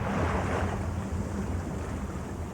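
Sea waves wash steadily on open water, mixed with gusting wind. The broad, continuous rush is close and fairly loud, fading slightly toward the end, with no voices.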